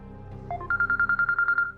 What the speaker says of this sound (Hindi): सखी का फोन है।